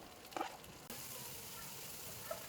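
Onion fries and sizzles in a pan while cooking pancit, a steady soft hiss with a brief clatter of stirring near the start.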